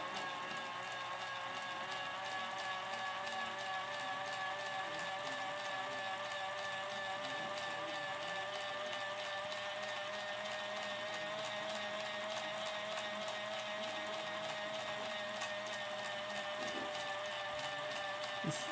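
Polar Express steam locomotive with its wheels slipping: a steady, faint mechanical whirring hum with layered tonal whine, unbroken and droning for the whole stretch.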